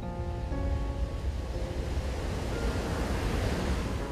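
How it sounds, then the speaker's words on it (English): Atlantic Ocean surf on a long sandy beach south of Long Island, New York, gives a constant loud roar of breaking waves mixed with gusting wind rumbling against the microphone, with no voices. "It's a beautiful stretch of beach, miles of sand and water along the Atlantic Ocean, south of New York's Long Island."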